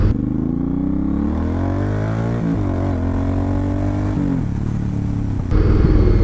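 An Indian Challenger motorcycle's engine on a ride, a steady throaty rumble whose pitch climbs and drops through several gear changes, loud and close, heard alone with wind noise.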